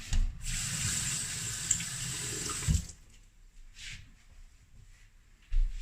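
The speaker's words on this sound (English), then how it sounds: "And I'm just going to wash my hands." Tap water runs steadily into a sink while hands are washed under it, a loud rushing stream for about three seconds that cuts off, followed by a few faint knocks and rubs.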